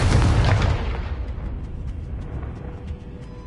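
Confringo fire spell exploding in a wizarding video game: one loud, booming blast at the start that rolls off into a long, dying rumble, with faint crackling ticks trailing behind.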